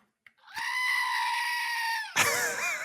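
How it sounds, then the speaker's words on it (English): A goat lets out a long, loud scream lasting about a second and a half, played as a sound effect in an IT podcast, ending abruptly into a brief burst of other noise. "Andy, can I get a goat scream, please?"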